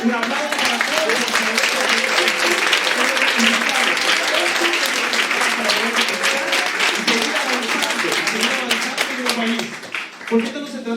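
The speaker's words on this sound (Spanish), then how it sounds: "O sea, esto sí, un aplauso para todos." A crowd at a health-policy town-hall plenary claps continuously for about ten seconds, a dense, even patter with voices mixed in, tapering off near the end.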